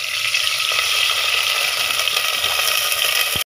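Water is poured into a hot pan of onions frying in oil, setting off a loud, continuous sizzle that holds steady for several seconds before stopping abruptly.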